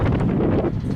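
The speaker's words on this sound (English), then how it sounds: "So a little breezy." Breezy gusts buffeting the microphone by a rail line near a curve in Linton, a dense low roaring rumble that fills the whole second without letup.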